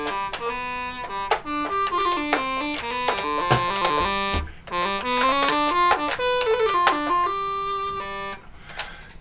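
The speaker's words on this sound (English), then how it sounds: "DH100 sounds like this on its own." A Casio DH100 digital horn plays alone, a bright synthesized melody of sustained, overlapping notes with short gaps between phrases, steady and fairly loud throughout.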